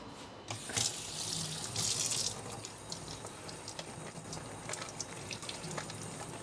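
A kitchen faucet runs steadily as items are rinsed beneath it, with splashes and clinks of the objects under the stream, a continuous close, moderately quiet wash with no talking.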